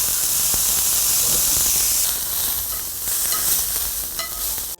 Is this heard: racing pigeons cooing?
no